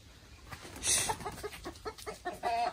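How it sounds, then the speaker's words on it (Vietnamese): Chickens on a rural Vietnamese farm cluck in short, close bursts, several birds overlapping in an uneven chatter, with one louder squawk near the start. "Đấy, gà này. Gà rất là nhiều."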